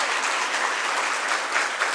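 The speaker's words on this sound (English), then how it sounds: "Can we get another round of applause for our amazing theme park partners?" A room full of people applauds the Central Florida theme park partners, a steady, even burst of many hands clapping with no voices over it.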